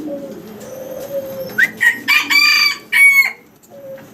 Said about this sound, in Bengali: 1 পিস টেডি কবুতর দেখাচ্ছি আপনাদেরকে।